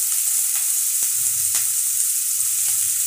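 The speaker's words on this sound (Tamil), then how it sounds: "இப்போ இது வந்து நல்லா கொஞ்சம் கலர் சேஞ்ச் ஆகக்கூடிய அளவுக்கு நம்ம வதக்கிக்கிடணும்" Chopped onion sautés in a pan for ragi upma with a steady, bright, close sizzle, broken by scattered clicks and scrapes of stirring. No one talks.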